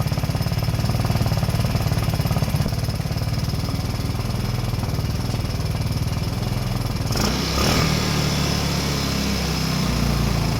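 A 150cc GY6 engine in a UTV runs close by, a loud, steady rapid chatter with a brief rev change partway through, without talk.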